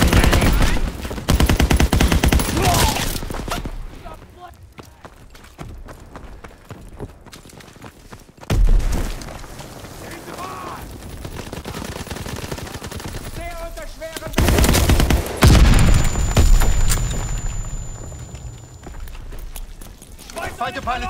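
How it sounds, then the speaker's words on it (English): Fighter aircraft strafing runs in a Call of Duty WW2 Domination match bring bursts of rapid gunfire and battlefield clatter that surge and fade over about twenty seconds, with voices talking in the mix. "fighter pilot inbound, strafing the target"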